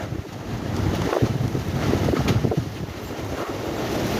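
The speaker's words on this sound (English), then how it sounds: "wind have picked up." Strong gusting wind from Storm Darragh roars across the microphone, a broad, continuous buffeting rush with rising and falling surges.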